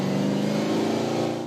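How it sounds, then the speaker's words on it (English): A car engine revs loudly up close during an EPA Victoria vehicle noise test, a steady, buzzing motor drone held high for a moment with no voices. "revving the engines"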